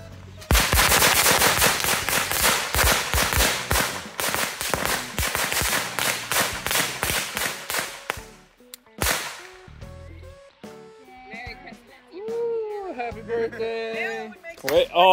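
Rapid bursts of Fourth of July fireworks crackle and bang outdoors for about eight seconds, a dense loud string of sharp reports, followed by scattered pops and whistles as people talk and shout nearby.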